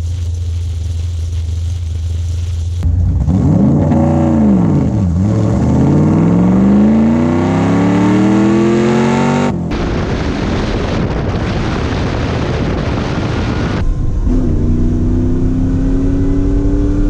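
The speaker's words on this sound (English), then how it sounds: "I think I'm gonna try take off in second now" A 4x4 car launches in second gear at a race track, its engine revving hard and rising in pitch through a long pull, then dropping and climbing again amid heavy wind buffeting close to the microphone.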